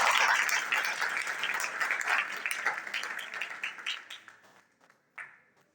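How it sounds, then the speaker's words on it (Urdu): A church congregation claps for about four seconds in a dense broadband patter that thins out and fades, with a short final burst near the end. "پھر اپنے لیے تالیاں بجائیں"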